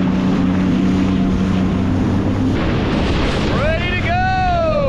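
A Sea-Doo personal watercraft engine drones loudly on the open sea outside a harbor jetty, with heavy wind buffeting the microphone and a rising whine as the engine revs near the end.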